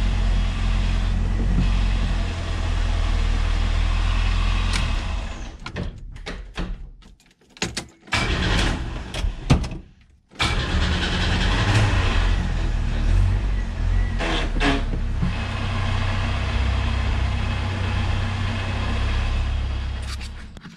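A 1987 Chevette converted to a manual clutch, with the clutch out of adjustment, runs with a steady, loud engine drone that cuts out briefly near the middle before resuming.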